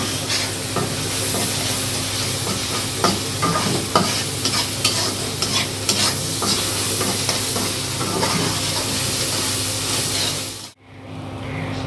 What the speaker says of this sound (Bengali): কাতল মাছ ভুনা করার জন্য মশলাটা সব কষায় নিচ্ছি